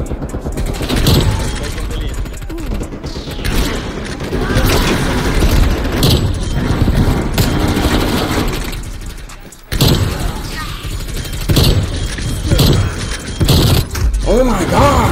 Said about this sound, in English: How much higher you want me to shoot